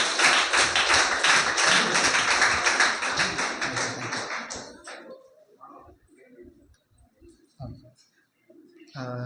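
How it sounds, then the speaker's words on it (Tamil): An audience claps after a lecture on Tamil inscriptions in Sri Lankan Buddhist temples, with dense applause for about five seconds that then fades into a quiet room with scattered small sounds and a voice starting at the end. "மீண்டும் ஒரு பெரிய கைத்தட்டல் ஐயாவுடைய ஆய்வறிக்கைக்கு நாம் வழங்குவோம்"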